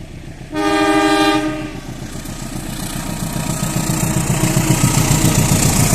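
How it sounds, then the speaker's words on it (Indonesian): A loud, sustained train horn blares for about a second as the Logawa passenger train departs Purwokerto station, then a heavy engine rumbles and wheels clatter rhythmically as the train starts moving. "kereta api Logawa akan diberangkatkan dari stasiun Purwokerto tepat pukul setengah 6 pagi"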